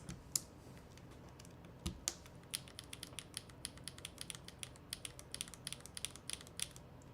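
Keys on a Devastating TKL mechanical keyboard with HMX KD200 switches clack in quick, irregular bursts, sharp and crisp, close but fairly quiet, with no talk.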